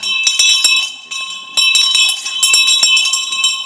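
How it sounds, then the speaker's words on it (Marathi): A bell rings continuously for about four seconds to signal the start of a stage play. The ringing is loud, steady and metallic, with a few brief clinking breaks. "बेल देतोय रे"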